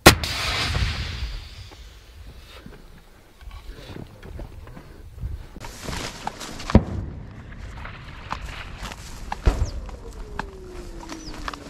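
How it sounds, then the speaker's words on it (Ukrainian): Sharp, distant gunshots crack at irregular intervals on a war front line in Ukraine, some echoing, over a quiet outdoor background with faint rustling. "Це хто стріляє?"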